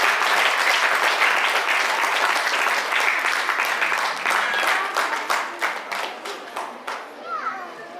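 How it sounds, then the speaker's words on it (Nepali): A wedding congregation at a Nepali Christian ceremony gives loud, sustained applause to welcome the senior pastor. Dense clapping fills the room, then thins into scattered individual claps toward the end, with children's voices mixed in. "एकचोटि सबैजनाले उहाँलाई जोरदार तालीका साथ स्वागत"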